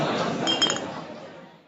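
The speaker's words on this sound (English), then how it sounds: "So function 10 is toasting." A sound effect from an LGB 33350 model gondola's toasting function: a few bright glass clinks over murmuring voices, ringing briefly and then fading out.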